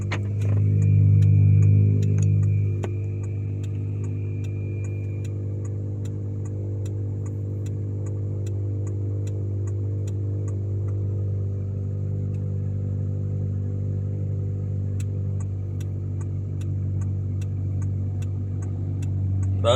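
A 2.0-litre Honda CR-V sport-type idles just after a cold start, with a steady, close engine hum and muffler drone plus a faint ticking over a flat, continuous rhythm, loudest in the first couple of seconds before easing slightly.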